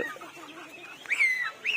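Pet chickens, including two big roosters and a golden hen, cluck softly at first, then one bird lets out two louder, drawn-out calls near the end.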